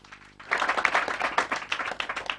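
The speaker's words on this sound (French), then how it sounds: "on applaudit très très fort nos artistes" An audience applauds artists at a French-speaking stage show, a burst of clapping that rises suddenly and continues steadily, fairly close and lively.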